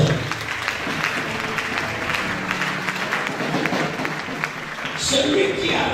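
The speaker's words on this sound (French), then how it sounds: "Est-ce qu'on peut acclamer très fort les amis?" Congregation at an evening church service applauding and cheering loudly, a sustained wash of clapping and voices, with a preacher speaking over it.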